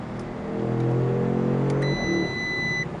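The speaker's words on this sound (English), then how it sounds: "you hear that beep. Well, that was the speed limit exceeded right there." A 2016 Audi S7 engine hums and revs, then a steady electronic speed limit warning beep sounds at about two seconds and holds for nearly a second before stopping.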